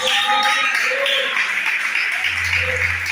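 Church congregation applauding for Jesus during a Portuguese-language sermon, a steady wash of clapping filling the whole moment at close range, with faint voices and a low hum joining near the end.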